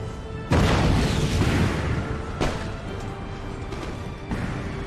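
Cannons fire in Empire: Total War: three heavy booms at spaced intervals, each a loud, broad blast with a rumbling decay that trails into the next.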